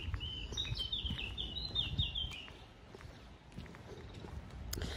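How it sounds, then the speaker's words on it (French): Birds chirp and trill in short repeated phrases over a low outdoor rumble, with the song fading partway through. "Tranquille avec le bruit des oiseaux."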